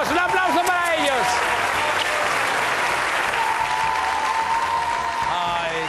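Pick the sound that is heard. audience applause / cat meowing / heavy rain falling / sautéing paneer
audience applause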